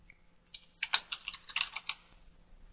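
Quick bursts of keystrokes on a computer keyboard, a short run of clicky taps close to the mic in a quiet room.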